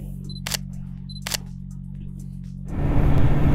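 An SLR camera shutter clicks twice in quick succession, each a sharp close snap over a low idling hum beside a QJMotor SRK 921 RR motorcycle, followed by a rise of broadband rumble.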